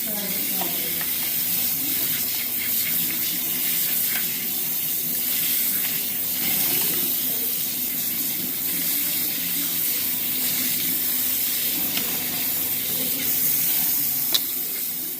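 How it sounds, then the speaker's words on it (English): Tap water runs steadily while a bowl is rinsed out at a sink, a continuous close splashing hiss with faint clatter, lasting throughout. "I'm going to rinse this bowl out"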